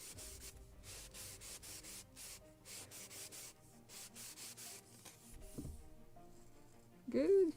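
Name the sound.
sanding a wooden model ship part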